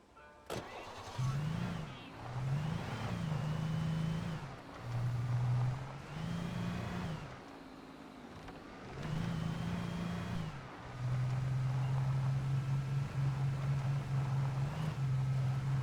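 A car engine in the Alan Wake video game starts and runs with a low drone, revving repeatedly in uneven bursts before settling into a steady hum, loud and close with no talking.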